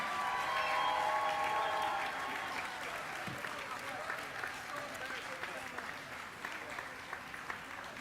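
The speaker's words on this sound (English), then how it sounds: "You guys can give a louder applause." Audience applause at a realtor association gala, a dense sustained clapping crowd that is loudest at first, then eases to a steady, slightly thinner patter.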